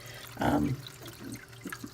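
Water pumps through a vivarium lifter pump in short, pressured bursts, a close splashing gush followed by softer trickles and drips, with no talk.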